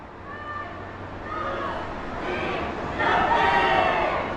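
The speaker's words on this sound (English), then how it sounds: "That's a cheer by UP to cheer them up." A team of Uttar Pradesh players at a Tamil Nadu versus Uttar Pradesh match raise a crowd-like cheer to lift themselves, voices swelling and growing louder toward the end of a few seconds.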